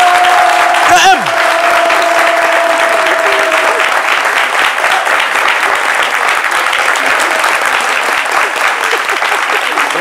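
A studio audience on a midday TV show breaks into loud sustained applause welcoming a guest, clapping continuing steadily to the end, with a host's voice and a brief musical tone briefly on top at the start.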